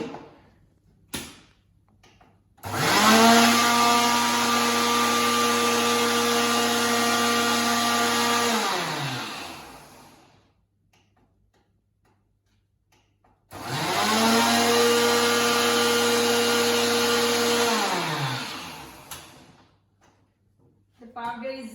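Fennel seeds being ground into powder in an electric grinder, two loud sustained whirring bursts of about six seconds each, winding down after each run, with a pause between them.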